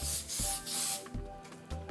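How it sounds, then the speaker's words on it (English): Cooking spray hisses from a can onto the sides of a cake pan in several close, loud bursts separated by brief pauses. "and then spray the sides."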